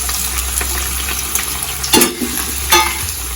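Sliced onions frying in a pan with garam masala for a chicken curry, giving a steady close sizzle broken by a few louder scraping stirs; no voices.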